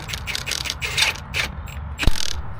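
An impact wrench tightens a wheel bolt on a car, giving rapid ratcheting bursts and clicks in several short runs, close and fairly loud, ending with a sharp metallic hit.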